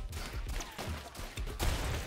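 Bouncing gunshots from a Rounds video game match fire in a quick, irregular volley of sharp game shots, fairly loud, with a denser burst near the end.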